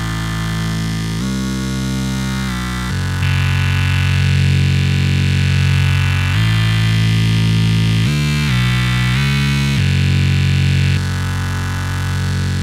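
Synth tones run through UMG 30C multiband distortion and saturation hold buzzing, heavily distorted sustained notes, shifting pitch a few times, loud, gritty and dense throughout.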